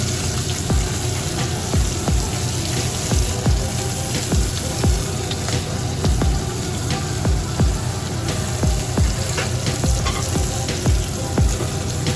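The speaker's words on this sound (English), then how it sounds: "We're going to let them just cook away and get a nice crust sear." Sea scallops searing in a hot pan at medium-high heat, a loud continuous sizzle and crackle with small pops spaced fairly regularly, close and with no talk.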